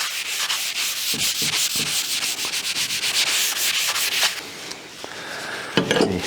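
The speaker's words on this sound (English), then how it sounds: "And you won't with just a light rub with a sanding sponge." Steady scratchy rubbing strokes of a sanding sponge on a hand plane sole, a light abrasive scrub repeated rapidly across a hard surface, close by and continuous, with a few brief pauses near the end.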